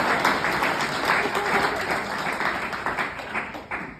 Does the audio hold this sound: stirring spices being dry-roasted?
no